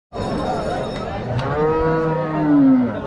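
Cattle mooing at a cow market: a loud, long, drawn-out moo from a nearby cow over a steady background of crowd noise.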